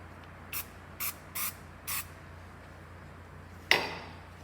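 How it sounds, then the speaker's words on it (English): Four quick hissing pumps from a spray bottle of cleaner, close and fairly quiet, followed by a sharper single spritz after a short pause, during a dye test on a MIG weld. "First thing we're going to do is spray some cleaner on it."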